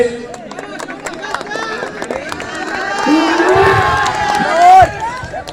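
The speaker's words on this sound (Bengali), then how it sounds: "সবাই করতালি দিয়ে উৎসাহিত করে" A crowd at a prize-giving after a final match cheers and shouts in a noisy, lively swell, with voices and clapping blending together and rising toward the end.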